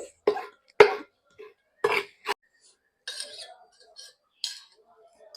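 Green chilies are pounded in a mortar for Maharashtrian thecha, giving sharp, isolated knocks and grinding scrapes at an uneven pace with quiet gaps between strikes.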